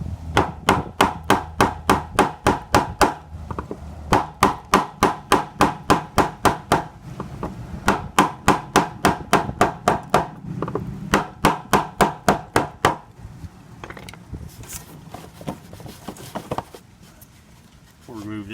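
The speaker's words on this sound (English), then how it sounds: "I take a flathead screwdriver and a hammer and just gently" Sharp metallic hammer taps strike a flathead screwdriver against a Jeep Wrangler TJ fuel pump ring in quick, steady runs, close up, pausing briefly between bursts, with softer taps and a voice near the end.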